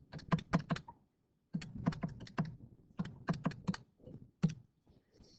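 Close, quiet keystrokes on a computer keyboard come in three short bursts of rapid taps, separated by brief pauses, with no voice over them.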